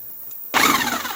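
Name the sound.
corded half-inch impact wrench spinning off a nut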